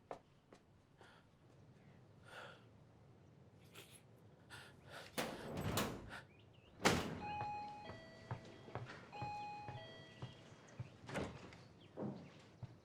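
A door slides and bangs shut indoors amid soft shuffling and thumps, with a sharp loud knock partway through and a faint electronic beeping tone afterward.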